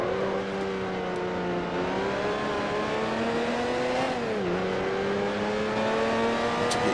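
Damaged open-wheel race car in Grand Prix Legends, its engine droning steadily at high revs with shifting pitch, a brief dip around mid-clip as it lifts or changes gear, tyre noise underneath, loud and continuous with no talk.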